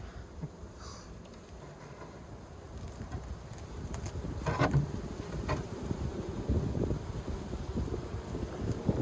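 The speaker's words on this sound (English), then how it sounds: "Bees on the farm." A steady low buzzing of many bees close by at a log hive on a farm, with wind rumbling over the microphone and the drone swelling slightly toward the end.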